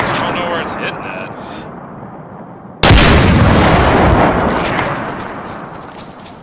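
Heavy gunfire in the video game Jurassic Island, a loud sudden blast partway through followed by a long rumbling decay over a noisy background, with players talking.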